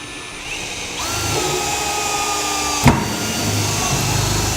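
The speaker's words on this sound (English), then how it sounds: "I'm going to start out with a small drill bit to make it a little bit easier" A power drill with a small bit boring a pilot hole through a Ram pickup's truck bed and frame for a 5th wheel hitch, giving a steady close whine under grinding hiss, with one sharp knock partway through.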